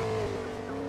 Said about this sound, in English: I might actually have to get a car.